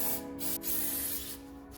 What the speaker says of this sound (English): Spray your pan with non-stick spray.